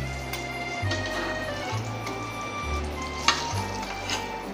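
An egg fries in hot oil in a pan with a continuous close sizzle and spatter, while a low steady hum comes and goes underneath and a sharp clink sounds once.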